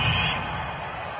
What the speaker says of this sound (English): the crowd doesn't like that